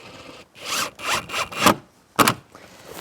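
Screws are driven into the frame of a Velux roof window, heard as a series of short, rasping bursts separated by brief pauses.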